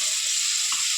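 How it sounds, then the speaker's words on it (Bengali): Chicken kebabs frying in oil, a steady close hiss of sizzling that stays constant throughout the brief moment, with no voices. "লাল লাল করে ভেজে নেবো"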